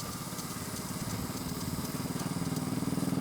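An old motorcycle engine idling nearby, a steady low putter with a rhythmic pulse that firms up and grows slightly louder toward the end, with no talk over it.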